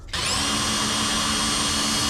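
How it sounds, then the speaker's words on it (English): A power drill spins a Forstner bit into wood, starting abruptly and holding a steady, loud whirring drone close by. "we're going to drill into that with your Forstner bit"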